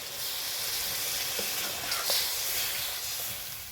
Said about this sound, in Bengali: এখন সেদ্ধর জন্য আমি একটু পরিমাণে জল দেব।